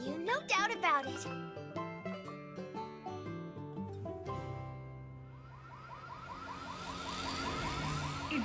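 An evacuation alarm sounds in an anime scene. A melodic jingle comes first, then a repeating siren with rising, swooping wails grows steadily louder.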